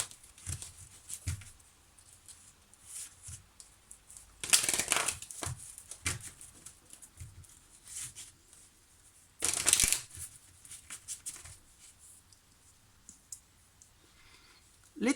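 Oracle cards are laid out and shuffled on a table, with soft rustles and clicks broken by two louder bursts of card riffling, amid quiet pauses.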